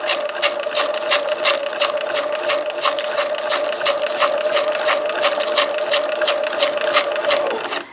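A sewing machine stitching tissue paper into ruffles with a ruffler presser foot, a steady mechanical hum with a rapid rhythmic clatter running continuously and close, then stopping at the end.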